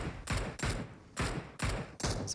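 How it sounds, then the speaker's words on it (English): Bursts of gunfire in a PUBG Mobile esports match come in four or five sharp, loud volleys spaced roughly half a second apart, each a dense fusillade with no talk over it. "So more shots rain out."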